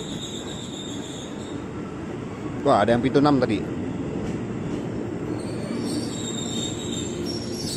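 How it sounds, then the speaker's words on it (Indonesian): A JR 205 series KRL commuter train with ten cars pulls out of Depok station toward Bogor, its wheels squealing loudly for under a second amid steady rumble, with someone talking over it. "Jalur 4 komuter yang tujuan Bogor, JRS 205 seri 10 kereta berangkat"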